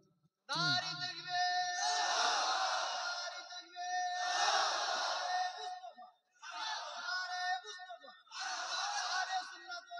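A large crowd at an outdoor Islamic sermon shouting takbir in unison, four loud sustained chanted calls separated by brief pauses, after a lone voice leads the call.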